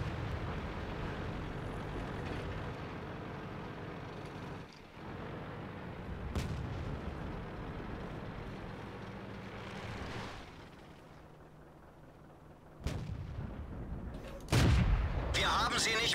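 Tank cannon fire and battle rumble in World of Tanks, with several heavy booming shots over a steady engine drone and someone talking.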